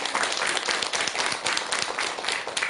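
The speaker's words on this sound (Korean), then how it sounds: "좋은 질문 해주신 보살님께 큰 박수 한번 주세요" Audience applause fills a Buddhist dharma talk hall, dense steady clapping from a crowd throughout, close and fairly loud with no talk over it.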